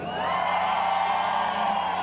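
Live event audience in Ecatepec, Mexico, letting out a sustained loud shout and cheer after a three-count, a dense crowd roar holding steady throughout.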